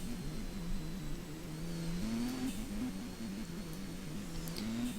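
A car engine under full throttle on a test drive, a moderate steady drone with wavering revs rising and falling slightly, heard fairly faintly with no talk.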